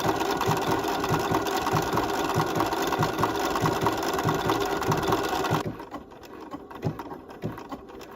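Sewing machine stitching small hearts with glamour metallic thread, a fast, even mechanical whirr running steadily for several seconds before stopping abruptly, leaving quieter handling noise.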